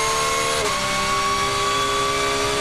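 GT race cars in the ADAC GT Masters run wheel to wheel at the Lausitzring, making a loud, dense engine roar that holds steady with a sustained high whine and a brief pitch shift partway through.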